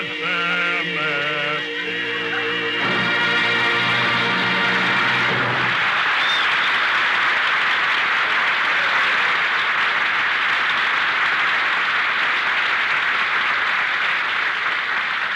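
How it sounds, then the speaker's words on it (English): A large audience applauds loudly and steadily in a dense, continuous roar that follows a musical passage and runs on without letting up. "Did you hear that applause, Jack?"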